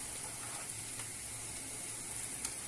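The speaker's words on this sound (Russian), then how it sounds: "На растительном масле лучок с морковочкой обжариваем." Onion and carrot frying in vegetable oil for a quick pea soup, a steady soft sizzle throughout at low level, with faint occasional clicks and no talk.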